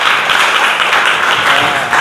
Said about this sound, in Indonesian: beri tepuk tangan pada kelompok 3